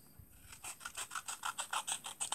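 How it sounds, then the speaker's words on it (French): Scissors cut paper for a sea-themed alphabet craft page, giving a steady series of quiet, rhythmic rasping snips close to the listener. "Alors là, je vais venir découper."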